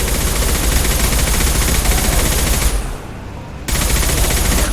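Loud, continuous burst of heavy gunfire in Mass Effect 2, a rattling stream of shots filling the clip, briefly dropping away near the end before resuming at full intensity.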